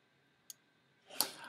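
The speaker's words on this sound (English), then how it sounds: "double click that" A computer mouse button clicks sharply, then a second, louder click follows about seven tenths of a second later with a brief rustle. Both are close and crisp against near silence, with no one speaking.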